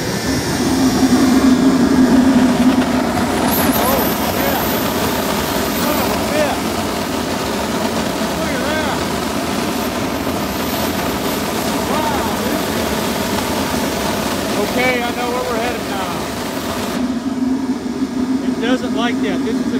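Blower-powered cast iron melting furnace burner fitted with a nozzle, a loud continuous roar that stays steady throughout, with a voice talking over it in places.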